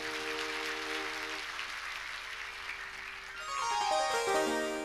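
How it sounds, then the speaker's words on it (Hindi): Audience at a Bhagwat katha gathering in Jiyapar claps in sustained, dense applause throughout, with a musical tone rising near the end. "ये ताली आपके लिए थी।"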